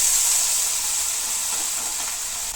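Bitter gourd and potato fry in hot oil in a home kitchen, giving off a steady, loud, even sizzle and hiss with no talking.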